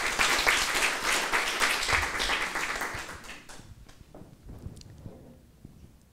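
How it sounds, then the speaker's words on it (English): An audience claps at a literary evening with French authors, the applause full and lively at first, then thinning out over a few seconds into scattered, fading claps. "Please give a round of applause again for Félicité Duvreux."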